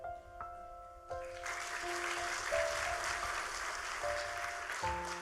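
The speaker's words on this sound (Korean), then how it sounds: "한 분 한 분 소개해 드릴 때마다 따뜻한 박수를 부탁드립니다" Guests at a hospital dedication ceremony are greeted with sustained audience applause, a broad even wash of clapping from a sizable crowd. Soft sustained musical tones sound underneath, and no speech is heard over it.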